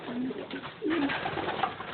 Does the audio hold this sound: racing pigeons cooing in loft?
yes